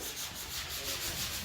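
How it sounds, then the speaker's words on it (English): Steady, continuous abrasive rubbing as Bondo body filler on a car is sanded by hand, a close, even scratching texture with no pauses and no voices. "He's doing a little sanding on that Bondo."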